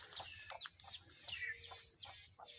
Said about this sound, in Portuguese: uma galinha com pintinho, né?